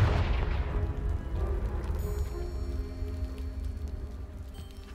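A deep booming blast from the Confringo explosive spell striking a piled barricade in Hogwarts Legacy, a single loud low thud that decays slowly into rumbling debris.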